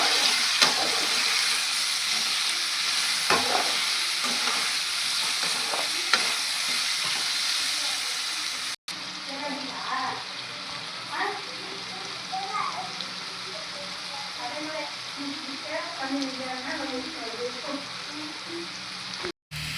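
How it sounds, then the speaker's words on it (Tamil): Potato pieces fry and sizzle in hot oil in a home kitchen while a spoon stirs them: a loud, steady hiss with scraping, then softer, crackly popping in the second half. "பாருங்கள் ஆயிலில் வந்து நல்லா ஃப்ரை ஆகிடுச்சு உருளைக்கிழங்கு"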